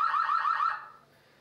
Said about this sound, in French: ça c'est l'alarme maison